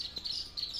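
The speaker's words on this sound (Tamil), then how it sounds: "இப்போ அது வெளியில் கூப்பிடுது அவங்க அம்மா குருவி" A mother sparrow calls her fledglings out of the nest with a series of high, thin chirps in quick bursts, fairly faint and close, with no voices.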